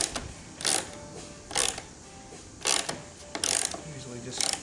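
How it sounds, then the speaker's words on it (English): A 5/16 socket and ratchet screwing a cable railing fitting into a 9/16 hole, with short bursts of close ratchet clicking that come in spaced runs separated by quiet pauses. "I chose just a 5/16 socket and ratchet"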